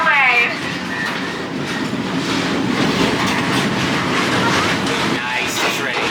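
A narrow gauge zoo railroad train, a replica of Union Pacific number 119, runs nearby at the Omaha zoo with steady loud rumbling, rhythmic clacking wheels and a brief whistle-like tone at the start, while voices talk over it.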